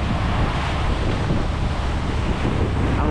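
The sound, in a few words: ocean waves and wind at sea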